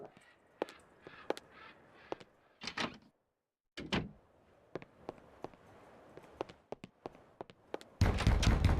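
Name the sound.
banging on a door in Eternal Darkness video game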